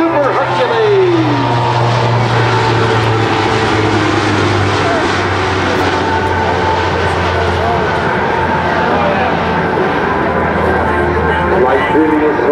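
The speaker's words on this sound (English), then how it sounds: "Here they come in a beautiful photo pass from the right. The C-130J Super Hercules." A C-130J Super Hercules turboprop flies a photo pass at an airshow, its engines giving a loud, steady roar with a shifting low drone, while a commentator speaks over a public address system throughout.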